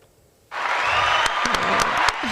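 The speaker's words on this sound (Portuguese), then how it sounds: "você tem aplausos aí?" A canned applause effect played in a talk-show studio starts abruptly after a brief quiet moment, a bright steady burst of crowd clapping with a few sharp accents running to the end.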